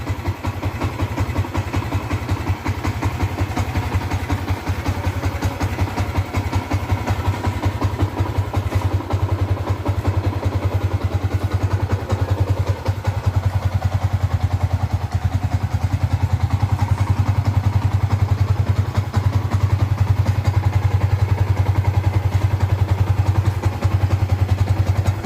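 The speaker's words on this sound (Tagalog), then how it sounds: "So mas gumanda yung response ng engine natin ngayon, mas gumanda yung tunog." A Yamaha Sniper 150 fitted with an Uma Racing air filter idles steadily for the whole clip, its close, low, even engine putter holding constant with a faint mechanical clatter and no speech.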